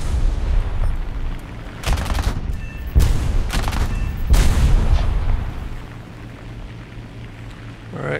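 .50 caliber aircraft machine guns in War Thunder, fired in several loud rapid bursts over a droning engine, each lasting about half a second to a second, before the firing stops and the engine continues alone.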